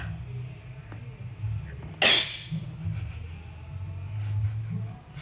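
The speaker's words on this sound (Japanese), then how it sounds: "ごめんめっちゃくしゃみ出た" A single sharp sneeze bursts out close to the microphone, set against a low steady hum with faint rustling afterward.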